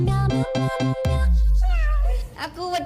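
A human voice imitates a cat meowing: a quick run of short, rhythmic meows, then a long drawn-out mew and a couple of brief sung notes, loud and close.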